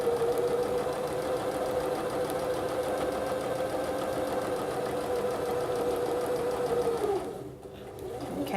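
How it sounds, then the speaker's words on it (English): A sewing machine runs steadily while stitching a straight hem line, a close, even mechanical whir that holds for about seven seconds and then stops. "now I'm going to just sew a straight line."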